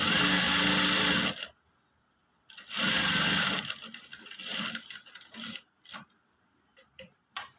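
Sewing machine stitching a katori blouse, running in two loud bursts of roughly a second each, separated by silence, then followed by scattered quieter clicks and handling noises.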